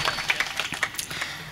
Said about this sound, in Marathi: सगळ्यांसाठी टाळी एकदा वा वा